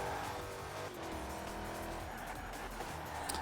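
Dodge car engine in Forza Horizon 4 during a street race, a loud, aggressive roar that holds steady throughout with brief tire squeal and racing noise, no one talking.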